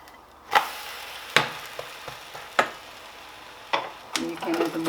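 A lentil pancake, Korean bindaetteok, sizzles in oil in a pan while being turned over, with several sharp spatula scrapes and knocks at intervals over a steady frying hiss, then louder crackling at the end.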